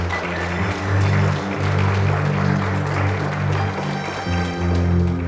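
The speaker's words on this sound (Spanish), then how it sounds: "¿Cuántos aplauden a Cristo?" Church congregation applauding in praise of Christ, broad steady clapping filling the room over a sustained low organ or keyboard drone, with no speech over it.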